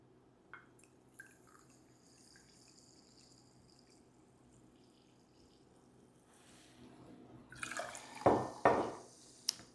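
Sparkling water pours into a glass for a Moscow Mule, a fizzing, splashing burst of liquid near the end after a mostly quiet stretch, loud and close.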